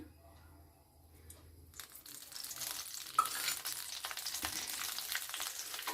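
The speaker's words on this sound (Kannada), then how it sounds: "ಸ್ವಲ್ಪ ಎಣ್ಣೆ ಹಾಕಿ ಹುರಿಬೇಕು ಅನ್ನ" Rice frying in a little oil in a home kitchen pan, a soft sizzle rising after a quiet start, with scraping stirs and crackles continuing steadily at low-moderate level.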